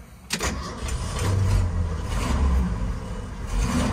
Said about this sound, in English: This one's a pretty much a cold start.